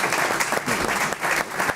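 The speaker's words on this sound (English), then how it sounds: "Please give them a round of applause" A full audience applauds at an event on mining and metals, dense steady clapping filling the whole stretch without a break.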